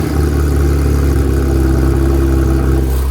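A Porsche 911 991.2 GT3 runs with a steady, loud, low mechanical drone and a rough, slightly buzzy texture, continuous with no voices.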